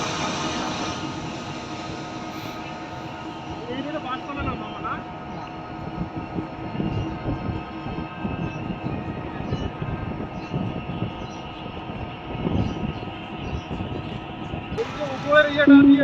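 A metro train runs for a long stretch on an elevated line between Uttara and Mirpur, a continuous steady rumble and hum with a sharp rise near the end, with people talking over it.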